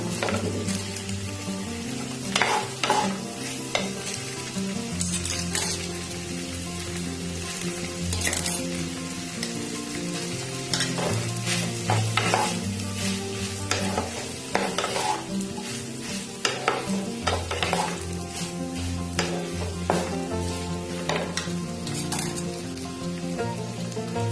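Cooked rice being stir-fried with vegetables for Bengali-style fried rice: a loud, steady sizzle with repeated spatula scrapes and clanks against the pan, continuing close and busy throughout.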